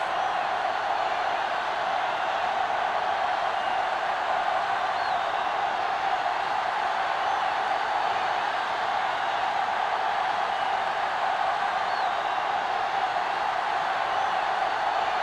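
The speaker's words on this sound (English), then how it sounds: "the crowd in full throat as we get this new season started with the kickoff" Stadium crowd noise from an American football video game at kickoff, a constant, broad roar of thousands of fans holding steady and loud throughout without any break or voices on top.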